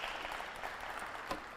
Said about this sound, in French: Applaudissez pour les encourager